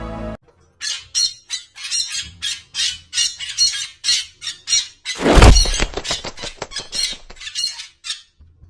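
Birds caught in a net squawk in rapid, repeated harsh bursts, loud and close, with a sharp crash-like flurry midway through, and no voices.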